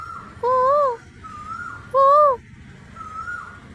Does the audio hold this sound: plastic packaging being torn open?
no